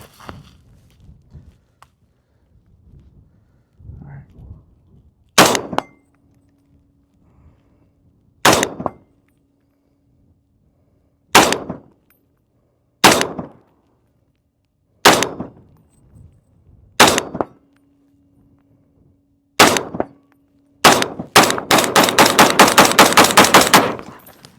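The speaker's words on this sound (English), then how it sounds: "We're gonna put 20 rounds in here of the cheapest ammunition, and then we're gonna shoot it" Eight sharp, loud rifle shots from a PSA Sabre 10A1 forged .308 with a 16-inch barrel, firing cheap ammunition, spaced a few seconds apart with quiet handling noise between them, then a burst of rapid clattering near the end.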